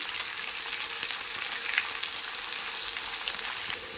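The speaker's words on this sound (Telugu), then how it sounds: "సో ఇలా మనం చికెన్ అంతా యాడ్ చేశాక ఇది బాగా రోస్ట్ అవ్వాలి చికెన్" Chicken fries in a pan with golden brown onions, giving a steady dense sizzle throughout with no talk.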